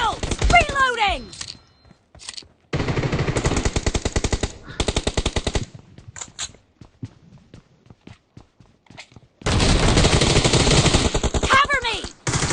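M1014 shotgun gunfire in the PUBG Mobile shooter game comes in loud, close, rapid bursts separated by short quiet gaps, with footstep-like patter and faint game sounds in between.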